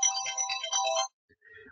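A mobile phone ringtone plays a bright electronic melody for about a second during a church sermon, then cuts off, leaving faint room noise.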